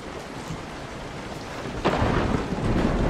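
Thunder from a lightning storm in Resident Evil 7 crashes in over a steady bed of rain, a loud, close clap and rumble rising partway through and continuing to the end.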